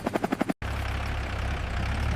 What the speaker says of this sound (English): Yes, a helicopter.